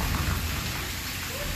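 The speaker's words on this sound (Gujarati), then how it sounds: "ધોધમાર વરસાદ વરસી રહ્યો છે" Heavy rain pours down in Gujarat, a dense, steady hiss of downpour, loud and continuous with no pauses and no voices.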